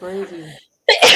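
A person speaks briefly, then after a short pause comes a sudden, loud, breathy sneeze close by.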